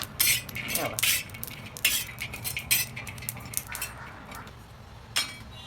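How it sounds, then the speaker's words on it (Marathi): Whole spices and coconut dry-roast in a pan without oil for black masala chicken, giving close, irregular crackles and pops mixed with metallic scraping and clinks from stirring. "आता लय तडा तडा उडत येते बघा असा मसाला चालू खडा मसाला भाजला"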